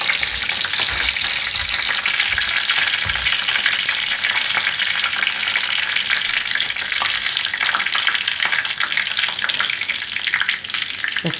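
Chillies and curry leaves hit hot oil for a Gujarati kadhi tempering and crackle in a loud, close, continuous sizzle that spits and pops unevenly, with stirring underneath and no one speaking.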